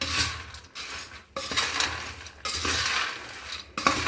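A spoon mixes spiced sago and peanuts in a bowl, making close scraping and stirring bursts broken by short pauses and small clinks.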